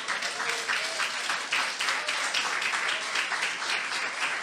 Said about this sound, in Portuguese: Você pode aplaudir o Senhor aí?